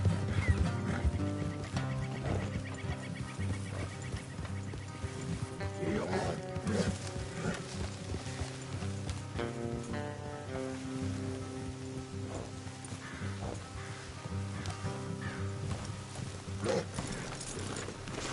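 In Red Dead Redemption 2, steady clip-clop of horse hooves continues under swelling music, with rain patter and an occasional whinny.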